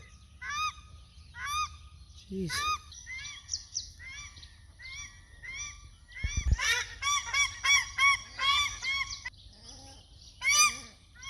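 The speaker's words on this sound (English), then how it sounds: "often the mallards fight with the paradise ducks" Paradise ducks and mallards calling repeatedly in bursts of harsh quacks and honks, several birds overlapping, fairly close, with a brief spoken exclamation partway through.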